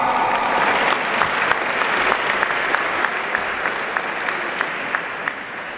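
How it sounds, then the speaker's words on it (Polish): A crowd at a boxing match claps steadily for several seconds, the applause fairly loud and even, with a few sharper claps standing out. "Prosiłbym o brawa dla zawodnika!"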